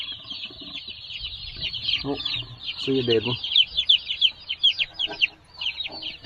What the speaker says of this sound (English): these are Cornish cross meat chickens